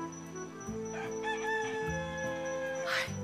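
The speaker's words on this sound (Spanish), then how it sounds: "¡Ya les ganó el gallo!" A rooster crows one long, loud cock-a-doodle-doo close by at dawn, with clucks and other farmyard sounds around it.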